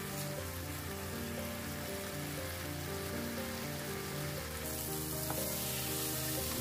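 Tandoori chicken coated in spices and sauces sizzles steadily in a pan for a paratha roll filling, an even close crackle like light rain with tonal background music over it.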